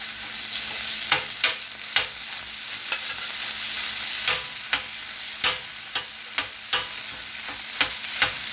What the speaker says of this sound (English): I got spatulas and it's meat, so I should be able to chop it pretty easy.